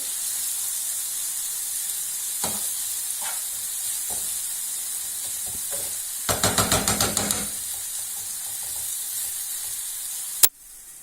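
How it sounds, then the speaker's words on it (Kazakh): Meat frying in a pan, a faint continuous sizzle broken by a few knocks and a short quick run of rhythmic scraping or tapping, ending with one sharp clack, no voices. "Етіміз қуырылды, мен 3-4 емес, 5 минуттай қуырып алдым."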